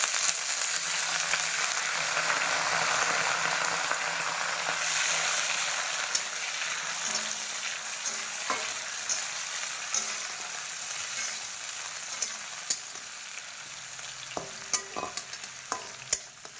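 Steady, crackling sizzle of cashews and raisins frying in hot oil, with occasional sharp pops and spatters toward the end.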